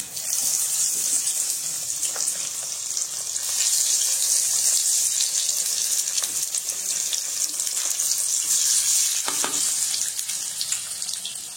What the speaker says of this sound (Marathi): चला तर आता आपण फ्राय करून घेऊया याला.